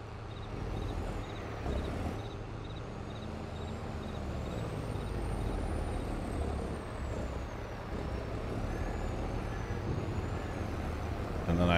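Heavy truck in the video game Farming Simulator 22, with engine rumble, hiss and air-brake release sounds running steadily throughout, with no talk over it.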